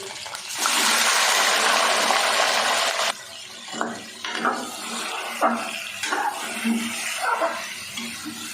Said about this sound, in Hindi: अब चिकन फ्राई कर लेते हैं।